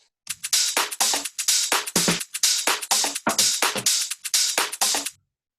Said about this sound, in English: So the whole drum loop sounds something like this.